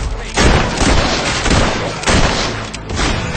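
Pistol gunfire in the fantasy game Fable 3, a few heavy booming shots spaced about a second apart, loud and close, each followed by a short rumbling tail.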